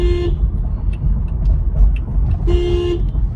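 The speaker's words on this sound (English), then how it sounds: "Horns honking." Two short car horn toots sound over steady street traffic noise, one at the very start and another near the end, from a vehicle being driven around a block.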